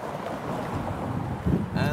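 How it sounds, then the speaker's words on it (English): Strong wind buffets the microphone on a quiet Sunday city street, a continuous low roaring rush with a couple of louder gusts near the end. "And there's a strong wind, lovely."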